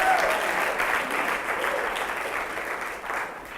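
Audience applause fills a lecture hall at a talk, steady and close from start to finish before tapering slightly at the end.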